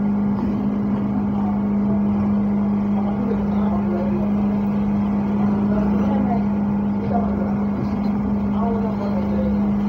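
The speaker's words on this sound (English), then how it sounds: "I sew the inseam of the trouser." A sewing machine stitches a trouser inseam with a steady, close, droning motor hum that runs without pause the whole time.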